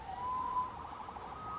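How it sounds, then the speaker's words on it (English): A police siren in the video game Marvel's Spider-Man wails faintly in the distance, a thin rising and steady tone over a quiet, hushed background. "Saved by the siren."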